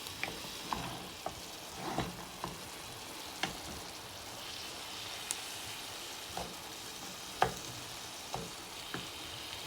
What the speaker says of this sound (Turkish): Bir güzel karıştırıyoruz. Her yerine gelecek şekilde.